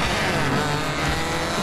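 Race cars revving together at the starting line of a 2012 Icelandic motorsport race, a loud, dense engine roar that holds steady throughout.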